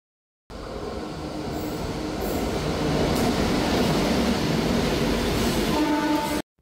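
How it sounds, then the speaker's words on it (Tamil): A goods train rumbles past on a railway line near a level crossing, a steady loud roar of wagons and wheels that builds and holds for several seconds before cutting off. "இங்கே பார்த்தீங்கன்னா ஒரு உள்ளே என்டரான ஒரு கூட்ஸ் ட்ரெயின் வந்துட்டுருக்குங்க."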